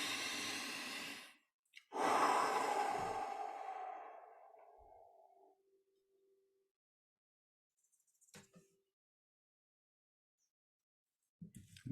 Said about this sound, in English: we could take in a very deep breath.